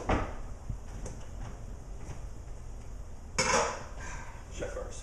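A pot of drained rice set back down on a switched-off stovetop burner, giving a short metallic clunk and scrape of cookware near the end amid quiet kitchen handling noise.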